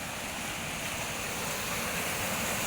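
Floodwater gushes off a damaged road after heavy rain, a dense, steady roar of rushing water that fills the air without a break.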